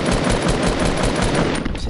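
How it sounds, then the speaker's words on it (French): Rapid automatic gunfire in the video game Fortnite rattles continuously and loudly, a dense burst of shots running through the whole moment with no talk over it. "J'ai tiré un gars par qui se descendait"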